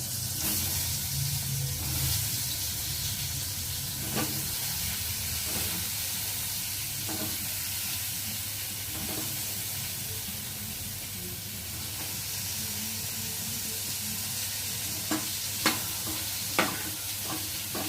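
Slices of pointed gourd (potol) frying in oil in a pan, a steady close sizzle and hiss throughout with occasional scraping stirs and a few sharp clicks near the end.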